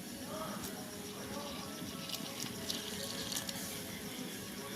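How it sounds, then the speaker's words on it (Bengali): Water being poured into radish paratha dough in a home kitchen, a soft continuous trickle and splash close by, fairly faint and steady with light clinks. "এবারে আমি এর মধ্যে জল দিয়ে দিচ্ছি।"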